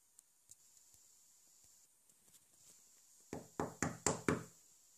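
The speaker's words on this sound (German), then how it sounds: "Du klopfst doch nicht an die Tür." Five sharp knocks on a door come in a quick, evenly spaced burst near the end, loud and close, after a few seconds of quiet with faint scattered ticks.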